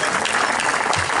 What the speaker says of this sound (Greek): Δικό σας χειροκρότημα είναι πολύ σημαντικό.